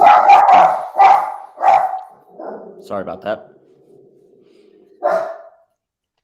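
A dog barks repeatedly in the background of a sports talk discussion, several sharp bursts in the first seconds followed by quieter yips, with a voice speaking over and after it.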